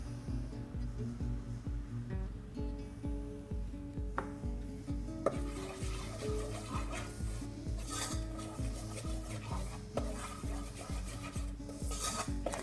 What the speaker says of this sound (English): I'm stirring it around to make sure that that the oil is spread around the base of the saucepan